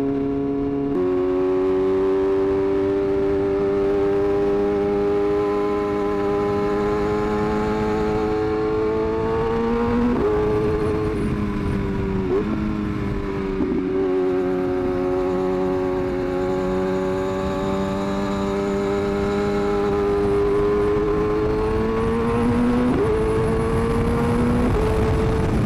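A Kawasaki ZX-6R motorcycle engine holds a loud, steady, close rev with pitch shifts and dips as it downshifts, continuous throughout without talk.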